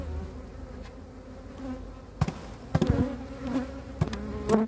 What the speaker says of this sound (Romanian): Ia uite și albinuță tânără.